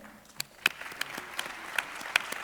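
A crowd applauds as the hosts are introduced at the opening of a live show. The clapping is thin and somewhat distant, with a few sharp individual claps standing out above the quieter patter.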